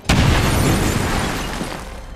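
A frag grenade goes off in the video game XCOM 2, a sudden loud boom that hits at once, then rolls into a long, slowly fading rumble of debris.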